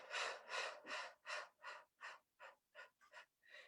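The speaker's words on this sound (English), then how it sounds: "Breathe in, and then breathe out." Slow, deliberate breaths in and out during an acupressure exercise for headaches, about ten soft airy pulses in a steady rhythm, close and quiet, with no talking.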